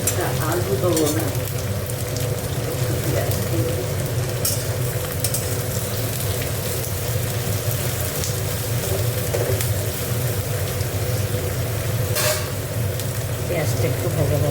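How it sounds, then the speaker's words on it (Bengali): Onions frying in a pan for a chicken giblet dish, giving a loud continuous sizzle with a low rumbling bed and occasional clinks, steady throughout with no clear talk. "পেঁয়াজটা একটু ভাজা ভাজা হোক।"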